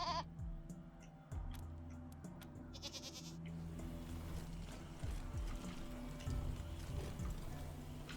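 Mountain goats bleat in the video game Wasteland 3, several short nasal calls over a low droning game soundscape with mechanical clicks and ratcheting, no speech.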